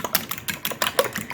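Four eggs beaten in a bowl for a meatloaf: quick, light clicking taps of a utensil against the bowl in an irregular rapid rhythm, close and fairly quiet, with no voices.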